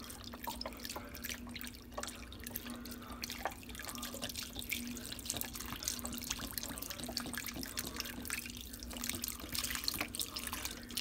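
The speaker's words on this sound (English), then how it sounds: "we got to get the broth in here first" Broth poured into a slow cooker while making pasta fagioli, a steady liquid trickle and splash lasting the whole stretch with a faint constant hum beneath, no talking.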